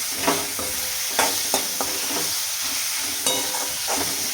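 Onion and coriander fry in oil in a kadai for green chilli masala rice, a constant sizzle broken by several sharp clinks and scrapes of stirring, up close with no voices.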